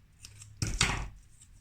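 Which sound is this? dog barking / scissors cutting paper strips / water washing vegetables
scissors cutting paper strips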